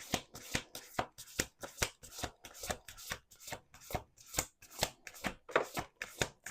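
Tarot cards are shuffled by hand in close, rapid, rhythmic bursts of riffling and slapping, each burst sharp and crisp, repeating steadily with no talk.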